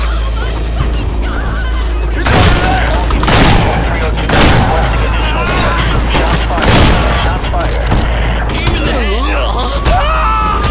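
Gunfire in the Hatred FPS mod: several sharp, loud bursts of shots and booms come at irregular intervals over a continuous low rumble, with someone talking and shouting in between.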